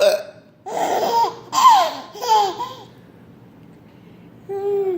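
A baby makes short hiccup-like gasps in a loose series, mixed with giggly laughter and babbling, close and clear, separated by brief quiet gaps.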